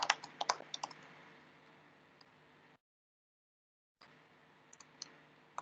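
Someone types on a computer keyboard in quick clusters of crisp clicks. The keys fall silent for about a second and then resume with a few scattered taps.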